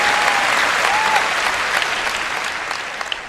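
A church congregation applauds steadily throughout, a dense wash of many hands clapping that fades slightly toward the end, with a faint voice briefly audible underneath.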